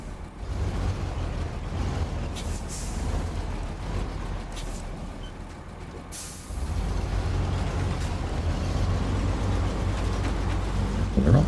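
A heavy off-road truck in the video game SnowRunner rolls downhill on a forest track, its engine a deep, steady low rumble that dips briefly midway, then swells louder and holds to the end, with occasional hissing bursts.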